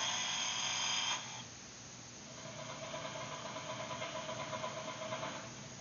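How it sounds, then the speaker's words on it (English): A chainsaw engine runs at a steady buzz during a safety demonstration on protective chaps, cutting to a lower, uneven chugging that pulses rhythmically for several seconds. "this is kind of what happens if you're wearing your chaps, the chainsaw gets caught up in it"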